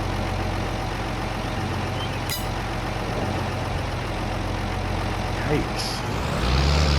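A tractor engine in Farming Simulator 22, on an old Polish farm where the tractor is in poor repair, rumbles steadily at a low idle throughout, with a couple of brief clicks and a rising surge near the end.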